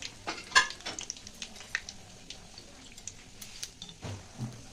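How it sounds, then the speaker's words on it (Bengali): Pea-stuffed kachori deep frying in hot oil on a gas stove, a soft intermittent sizzle and bubbling with occasional sharp clicks and utensil taps, fairly quiet and close. "এবার ভেজে নেব কচুরি।"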